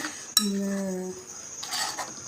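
Turmeric and coriander powder are stirred in a metal cooking pan: a sharp metallic clink rings out and decays, followed by a scraping stir, close and clear with no talk.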